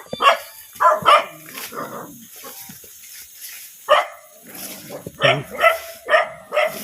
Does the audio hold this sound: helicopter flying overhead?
no